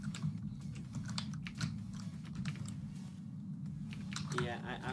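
Computer keyboard typing during a Tanki Online test-server game session, a steady run of quick clicky keystrokes continuing throughout, close to the microphone, over a constant low background hum and game noise.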